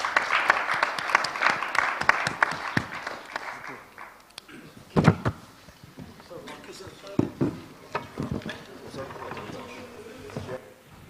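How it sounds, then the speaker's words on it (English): Audience clapping for the panelists at the close of a conference session on green and sustainable trade facilitation. A fairly dense round fades after a few seconds, then gives way to sparse scattered claps and a speaking voice. "let's give our panelists a big round of applause"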